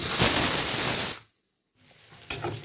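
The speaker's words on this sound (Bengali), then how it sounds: "ওই যে প্রেশার কুকারে সিটি পড়ছে" Loud, sustained hiss of steam venting from a pressure cooker whistle in a home kitchen, cutting off abruptly after about a second, followed by silence and then faint clatter and household noise.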